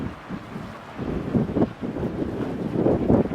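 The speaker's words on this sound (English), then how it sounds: "It might be a little too windy to do this." Gusts of wind buffet the microphone in low, rumbling bursts that swell and fade, with no talking.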